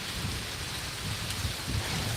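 A severe thunderstorm in Pittsburg, Kansas brings steady rain hiss with a low, rolling thunder rumble underneath, continuous and fairly soft, with no voices.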